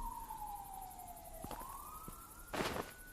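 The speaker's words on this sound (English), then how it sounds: "I don't want to hear the sirens anymore." Police sirens in the video game Deconstruction Simulator, a faint wailing tone that sweeps down and then rises again, with a few brief thumps and a louder burst of noise near the end.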